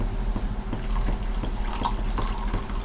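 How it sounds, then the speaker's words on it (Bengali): Soaked tamarind is poured into boiling sambar, making a soft liquid splashing and trickling with light drips over a low bubbling background, close and moderately loud. "তো এখন আমি এই তেঁতুল দিয়ে দেব বন্ধুরা।"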